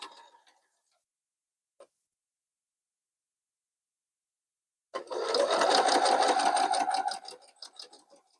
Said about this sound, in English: we're just going to use our 1/4 inch seam allowance and stitch that down